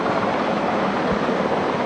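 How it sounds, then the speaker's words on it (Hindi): Navy military helicopters such as the Kamov and MH 64 Romeo fly over the Malvan coast at Sindhudurg during the 2023 Navy Day demonstration, giving a loud, continuous rotor-and-engine roar with no speech. "दूसरा हेलीकॉप्टर इस समय ऑपरेशन कर रहे हेलीकॉप्टर को सुरक्षा प्रदान करते हुए"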